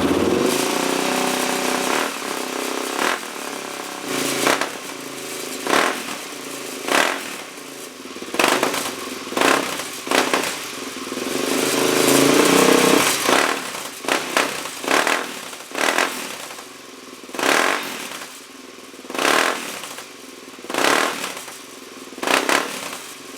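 A DRZ400S motorcycle engine idles roughly at half choke, stumbling and surging while sharp backfire pops burst out at irregular intervals, loud and close with no talk.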